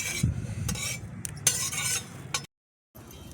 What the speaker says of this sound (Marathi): खोबरं भाजून घेऊ, तीळ भाजून घेऊ